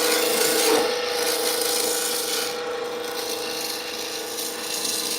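A rasp files continuously against a wooden bud vase spinning on a lathe, producing a steady, dense grinding rub with a faint motor hum underneath and no talking.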